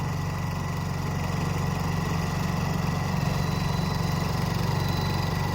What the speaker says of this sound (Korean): 그러면 선이 필요 없이 발전기만 돌리면 이렇게 모든 작동이 다 가능합니다.